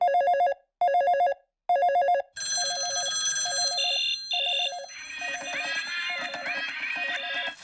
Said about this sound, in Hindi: रुको, मैं ऑगी को फोन करती हूँ।